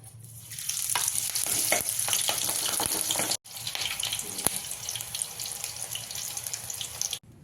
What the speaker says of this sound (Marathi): खेकड्या बरोबर खाण्यासाठी मस्त अशा झणझणीत मिरच्या आपण तळून घेऊया आता